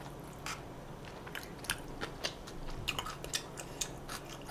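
Someone bites and chews fried cheese sticks up close, giving a series of soft, irregular crunches and crisp bites over quiet background.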